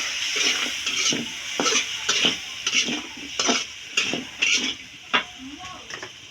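Eggplant frying with spice masala in a pan, sizzling steadily while a utensil stirs and scrapes in repeated strokes, with occasional clinks of metal against the pan.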